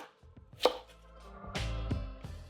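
Close, crisp knife chops dicing cauliflower on a cutting board for potato and cauliflower aloo gobi, a few distinct loud strikes with short gaps, no voices.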